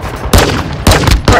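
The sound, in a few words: gunfire in a video game shooter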